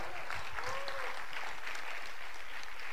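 A church congregation applauds during a sermon, a dense, continuous, fairly loud burst of clapping that holds steady throughout, with faint voices mixed underneath.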